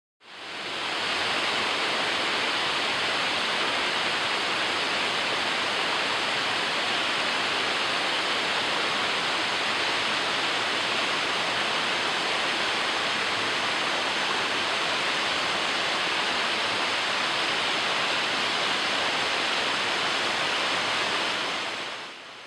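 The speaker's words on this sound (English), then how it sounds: "catch our first glimpse of the waterfall hidden in a wintry mist" Pistyll Rhaeadr waterfall pours steadily through wintry mist, a dense, continuous broadband roar heard up close, unbroken and unchanging, with no voices.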